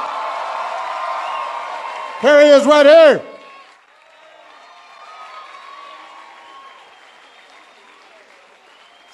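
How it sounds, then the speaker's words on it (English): A crowd of about 5,000 on the White House South Lawn at a Fourth of July celebration applauds steadily under talk, then breaks into a brief, loud burst of cheering and whoops before settling into a low murmur. "please give Kendrick Lamar a big round of applause"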